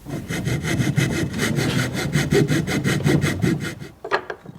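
A hand saw cuts through a block of wood to rough out a Spanish polychrome sculpture, with a steady run of close rasping back-and-forth strokes, followed by a few sharp knocks at the end.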